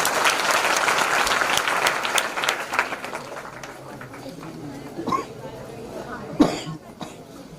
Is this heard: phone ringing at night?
no